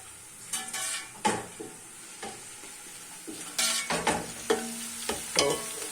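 Tomatoes and masala frying in a cooking pot for a traditional Pakistani dish, with a steady sizzle broken by repeated scraping stirs of a utensil against the pot, close and clear.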